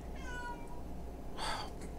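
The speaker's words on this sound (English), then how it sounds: "I got to go take care of my cat." A house cat meows twice, a drawn-out call and then a shorter one, both faint over a quiet indoor background.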